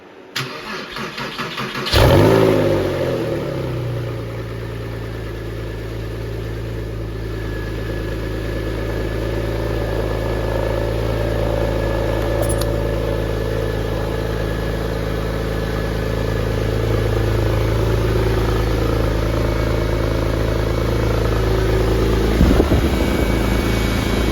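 A Porsche 911 (996) engine under restoration cranks and catches, then settles into a loud, steady idle that runs on with slight swells in revs, close to the microphone.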